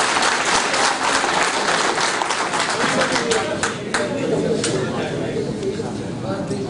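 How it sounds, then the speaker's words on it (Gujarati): An audience at a swearing-in ceremony for Ghanshyambhai Gadhvi breaks into loud, sustained applause, dense clapping that carries on steadily with a faint voice beneath it. "ઘનશ્યામભાઈ ગઢવી માટે જોરદાર એક વાર તાળી થઈ જાય"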